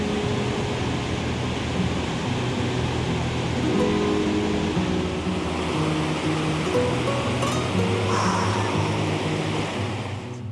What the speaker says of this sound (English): The sheer power and natural beauty of these rushing waters tumbling down within the depths of the canyon is awe-inspiring.